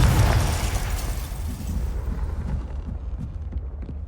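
A Confringo spell explosion in the Hogwarts Legacy video game gives a loud burst at the start, followed by a rumbling tail that fades over a few seconds.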